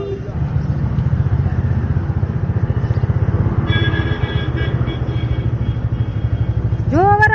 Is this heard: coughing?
no